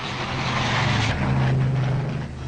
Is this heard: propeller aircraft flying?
yes